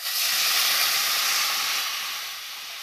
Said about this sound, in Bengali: দেখেছো রান্নাটা চলছে এখন